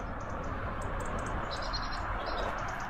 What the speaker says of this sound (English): you can hear all the birds singing